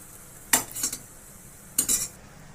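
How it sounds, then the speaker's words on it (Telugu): Sweet pieces fry in a pan until golden brown, with two brief bursts of a utensil scraping and clinking against the pan over a faint sizzle. "మంచి బ్రౌన్ కలర్ వేయించుకుందాం. మళ్ళీ టర్న్ చేసుకుందాం."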